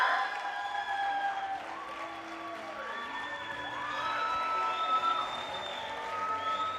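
An awards-ceremony audience claps and cheers for a winner, sustained applause with scattered whoops rising and falling, reverberant and moderately distant, a few high shouts sliding through the crowd noise.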